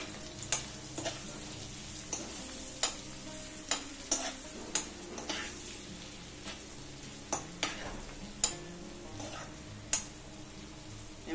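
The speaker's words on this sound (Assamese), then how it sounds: "ইয়াতে দিছো ৰঙা জলকীয়া পাউডাৰ দি গোটেইখিনি ভালদৰে লৰাই দিছো" Turmeric and red chili powder are stirred into paneer sizzling in a pan, a steady fry hiss under regular, evenly spaced scraping strokes of a spoon, close up and without speech.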